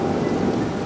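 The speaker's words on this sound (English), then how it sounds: "We have a huge storm coming in." A heavy thunderstorm rolls in over Florida with tornadoes nearby, giving a steady, loud roar of rain and rumbling thunder that fills the whole clip with no voices.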